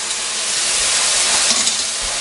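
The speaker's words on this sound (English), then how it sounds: "Over there I have boiling water with salt." A pot of salted water boils on a stove, giving a steady, fairly loud bubbling hiss that fills the whole clip with no voices over it.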